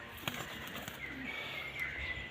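Pigeons tossed up from a coop, giving a few quick bursts of wing flapping up close, with a sharp louder flutter at the end over a quiet background.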